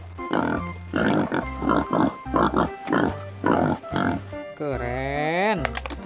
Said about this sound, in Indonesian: Babi hutan.